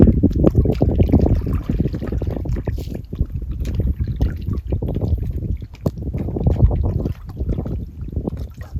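A stand-up paddleboard paddled on open water, with steady sloshing and splashing strokes close by, slight wind and trickling drips between pulls.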